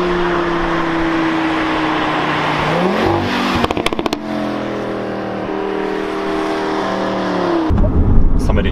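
Five-cylinder engine of an Audi RS3 accelerating, a loud close growl whose pitch climbs steadily, breaks briefly with crackling as it shifts, then climbs again before a sudden louder burst near the end.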